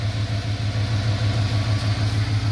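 A 1986 Ford Bronco engine idles steadily at operating temperature, a close, even low rumble with a regular pulsing throb and no voices over it.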